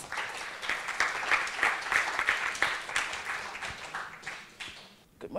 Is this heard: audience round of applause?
yes